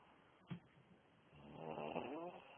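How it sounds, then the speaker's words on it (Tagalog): A pet snoring while asleep, a soft rhythmic raspy snore close by, following a brief sharp sound, with no talk over it. "totoong hilik yan"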